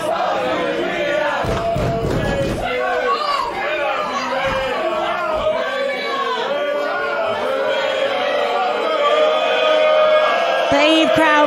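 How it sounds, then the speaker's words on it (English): A women's wrestling crowd at an EVE live event chanting and shouting in rhythmic unison, loud and sustained with a commentator's voice over it. "The EVE crowd making their feelings heard."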